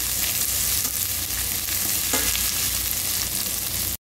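Onions stir-frying in a pan, a steady broadband sizzle with faint scraping of a utensil, continuous and close, ending abruptly.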